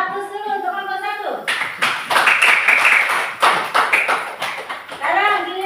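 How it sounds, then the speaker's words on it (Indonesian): A classroom audience claps for a student group after their presentation, a dense burst of clapping lasting several seconds between a speaking voice before and after. "Kita kasih aplaus dulu untuk kelompok 1."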